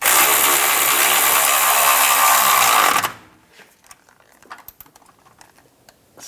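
A ratchet or power tool tightens a nut on a 2015-2020 Cadillac Escalade air suspension compressor mount, starting with a loud, dense whir for three seconds, then quieter close clicks and metallic taps.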